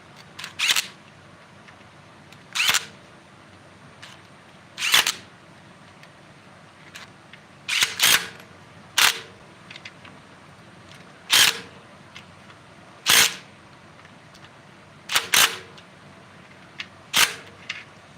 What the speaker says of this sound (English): I'm going to run them down with the impact gun.